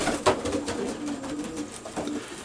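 A racing pigeon in a loft on basket day coos softly in low rolling phrases at close range, alone without talk.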